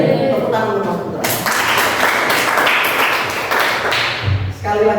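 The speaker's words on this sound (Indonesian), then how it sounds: "Tepuk tangan untuk Mas Putra" Students in a classroom clap for a classmate in a loud, dense burst of applause lasting a few seconds, with a voice speaking before and after.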